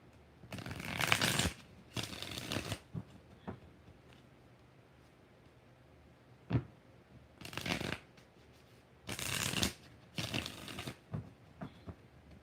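Tarot cards are shuffled in several quick riffling bursts, close up, separated by pauses with faint handling noises between them.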